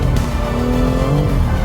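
A modified BMW E46 M3 drifts fully sideways through a right-hand corner on a race track, its engine holding a loud, close, sustained high-revving tone with steady harmonics and tire noise underneath.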